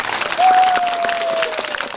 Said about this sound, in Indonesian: tepuk tangan dong untuk iannya dulu yang utama